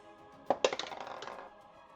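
Dice tumbling out of a dice box onto a tabletop during a tabletop game, two sharp clattering impacts followed by a second or so of rattling and rolling that fades into quiet.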